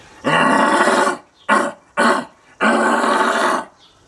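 A person imitates an aggressive, grunty red stag roar: a long guttural roar, two short grunting bursts, then another long roar, loud and close with no other sound.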